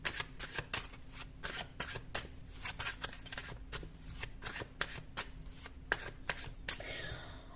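Tarot cards riffled and shuffled in a steady run of quick crisp flutters, close and clear, with a soft rustle trailing off at the end and no talk.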